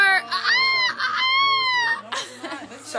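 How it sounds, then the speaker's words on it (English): A bird calls in several drawn-out, wavering cries, like a rooster or fowl, loud and close, with people talking and shouting around it toward the end. "yeah, that's a bird."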